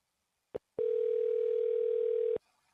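A telephone tone on a sales cold call: one short beep, then a long steady tone lasting over a second and a half, loud and close, alone without talk.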